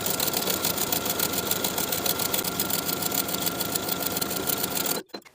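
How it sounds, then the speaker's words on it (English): Sewing machine topstitching a seam allowance onto the side panel of a pant, a fast steady mechanical whirr with rapid needle ticking, running alone for about five seconds before stopping abruptly. "Sewing that seam allowance to the side panel with a 1/4 inch seam allowance."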